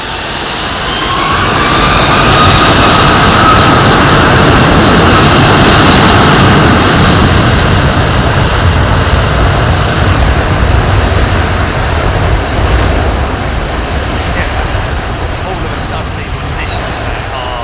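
Airbus A380 jet engines at high thrust build into a loud, sustained broadband roar that swells and then holds steady for many seconds, heavy low rumble under a hissing wash. Heard alone, without talk.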